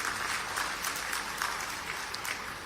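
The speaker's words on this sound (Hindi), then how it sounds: "जोरदार ताली बजा करके" A crowd at a public event in Burhanpur claps loudly for the Prime Minister, a dense, sustained burst of applause that holds steady for the whole stretch with no speech over it.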